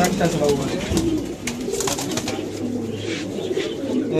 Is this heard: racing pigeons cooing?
yes